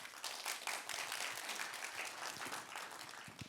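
An audience at an environmental education forum applauds steadily, dense clapping rising quickly and holding at an even level throughout, heard from a moderate distance.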